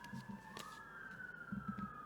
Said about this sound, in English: Classic Manchester sirens in the background